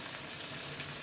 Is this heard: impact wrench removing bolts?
no